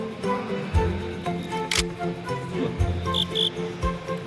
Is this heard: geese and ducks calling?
no